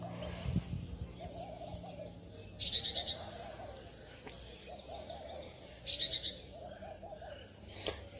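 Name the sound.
bird call, likely an owl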